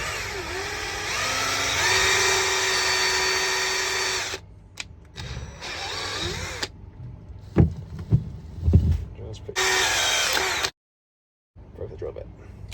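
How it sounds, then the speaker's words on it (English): Power drill boring into the lead keel of a sailboat under repair, heard as loud sustained whirring bursts that stop and restart several times, separated by clunks and handling knocks, with speech in between. "I'm gonna try to drill a hole into the lead. Hopefully the drill bit's long enough."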